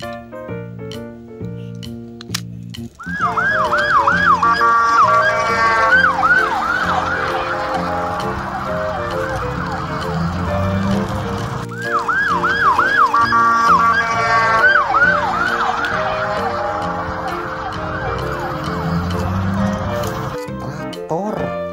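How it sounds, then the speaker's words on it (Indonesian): A toy police car plays a looping electronic siren, wailing loudly in repeated cycles close by, with a brief quieter pause near the start. "Mobil polisi berwarna merah."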